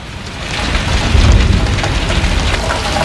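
Heavy rain with rumbling thunder during a storm in the film Identity, a dense steady downpour with a deep low roll swelling in the middle, loud and enveloping.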